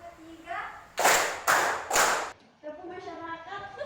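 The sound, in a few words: group clapping along in a classroom clapping game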